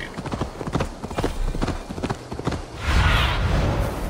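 Horse hooves clip-clop in steady, rapid rhythm throughout the Assassin's Creed Valhalla game, loud and close with background ambience.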